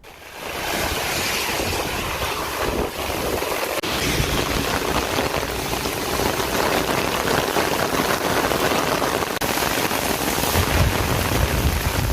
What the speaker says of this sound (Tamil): திருநள்ளாறு சுற்றுவட்டார பகுதிகளில் சுமார் ஒரு மணி நேரத்திற்கும் மேலாக கனமழை பெய்து வருகிறது